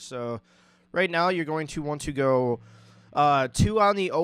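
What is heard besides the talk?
No everyday noise stands out behind the speech.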